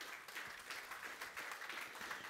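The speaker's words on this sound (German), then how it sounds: "Einen herzlichen Applaus" Applause from a seated audience at a German rail transport panel livestream, very faint and distant, a soft steady patter of clapping.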